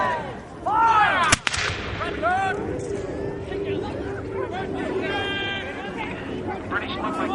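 A musket and artillery volley rings out at a Battle of Newport reenactment, one sharp loud blast cutting through shouted commands and crowd chatter, with further distant pops and voices calling across the field around it.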